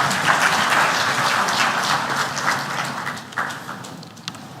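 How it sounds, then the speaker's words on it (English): Audience applause at a road safety memorial anniversary event in Nigeria, a steady, dense wash of clapping that fills the clip and thins slightly toward the end. "May we give the chairman of this occasion another resounding round of applause."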